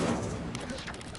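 Incendio fire spell cast in Hogwarts Legacy, a short burst of crackling, sputtering flame over a dense low rumble lasting about a second.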